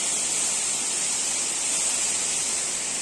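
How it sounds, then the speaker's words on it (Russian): A big waterfall in the upper reaches of the Uch-Kosh mountain gorge roars as a dense, unbroken wash of rushing water, loud and close, with nothing else audible. "шум воды сбивает с толку"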